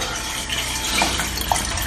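Water gushing steadily out through the drain valve of a Panasonic F70H2 washing machine, a continuous close rushing flow with no talk.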